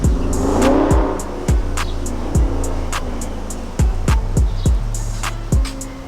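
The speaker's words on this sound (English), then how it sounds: "somebody revving their car up" A car engine nearby is revved in a series of sharp bursts, roughly eight or nine throttle blips rising and falling over a steady idle, with no talking.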